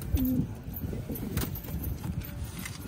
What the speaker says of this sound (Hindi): ये बहुत बढ़िया कबूतर है भाई बहुत बढ़िया कबूतर